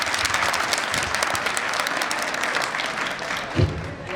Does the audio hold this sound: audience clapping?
yes